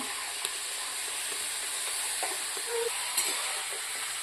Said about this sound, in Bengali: মাংস একটু ভাজবো তেলে।